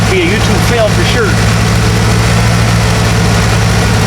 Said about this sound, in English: Sounds good. The exhaust sounds good.